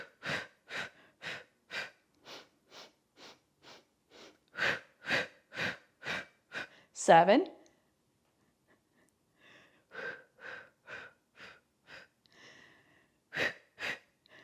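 Heavy rhythmic breathing during the reformer Pilates hundred exercise, a steady train of short sharp exhales pulsing about twice a second, pausing briefly with a single counted word, then resuming.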